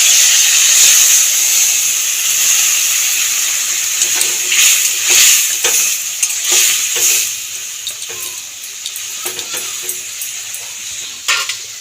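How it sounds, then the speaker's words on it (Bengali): Water used to wash spices poured into a hot frying pan while making bori makha, bursting into a loud, close hiss and sizzle that gradually settles under clattering spoon stirs. "এইবার আমি মশলা ধোয়া জলটা দিয়ে দেবো"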